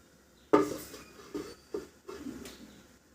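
A utensil clanks against a pan of pomfret curry in mustard sauce, then a lid is set on. One sharp metallic clatter opens, followed by a few softer, scattered knocks and scrapes, close and fairly quiet.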